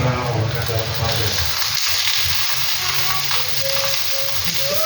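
Ground pork sizzling loudly and continuously in a hot frying pan as it is added, a dense crackling hiss with faint voices in the background.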